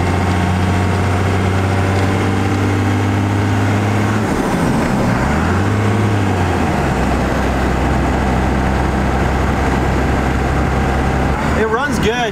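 A truck engine in need of a new clutch runs steadily, a loud, low idling hum with a brief dip in pitch partway through and a short rattle near the end.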